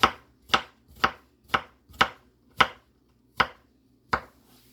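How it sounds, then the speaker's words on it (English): A knife dices eggplant on a cutting board in about eight crisp, evenly spaced chops, close and clear with quiet pauses between strikes. "Then let's cut it into julienne. Then small dices."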